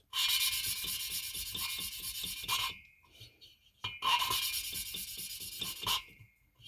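An engine cylinder-head valve is ground by hand against its seat, giving repeated rasping scrapes in quick rhythmic strokes. Two bursts are separated by a brief quiet pause.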